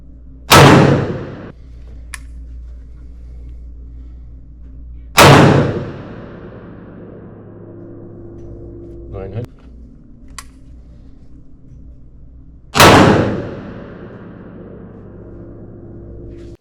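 Three loud, booming shots from a Rossi Brawler handgun chambered in .45 Long Colt/.410, firing 225-grain bullets, each blast standing alone with a long decaying tail and several seconds of quiet between shots.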